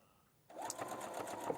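A sewing machine starts up partway in and runs steadily, its fast needle rhythm giving a continuous mechanical chatter close by, with no talking over it.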